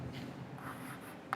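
A marker or chalk scratches across a classroom board in a brief stroke of writing, faint and close, ending with a small tap.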